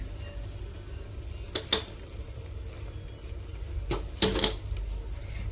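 Spinach being stirred into gravy in a pressure cooker, a soft, close sizzle with a few brief clinks and scrapes of a spoon against the pot, no voices.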